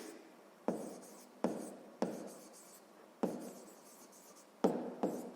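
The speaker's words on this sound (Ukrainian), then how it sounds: "Так і пишемо Едельвейс" A pen writes by hand on paper for a sixth-grade math exercise, making close, soft scratchy strokes that start sharply and fade, about six in quick succession in a quiet room.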